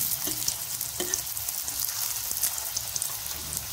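Pea tikki patties sizzle steadily in a pan after being flipped, with a dense, crackling hiss and occasional sharper pops.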